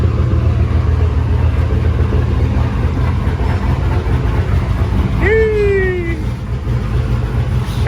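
A cammed truck engine idles near 1,000 RPM with a loud, deep, steady rumble throughout, its choppy lope continuous, while a short rising whine cuts in briefly near the end.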